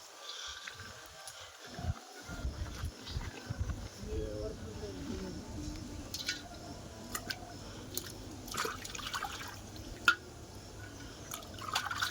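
Water runs and splashes over a freshly plucked chicken being rinsed clean by hand, with steady pouring and dripping plus wet handling sounds, under quiet talk in Bengali.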